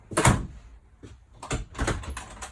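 A bedroom door inside a Jayco Eagle 357MDOK RV thumps and clatters as it is pushed shut, with a few separate knocks and bumps close by and no talking.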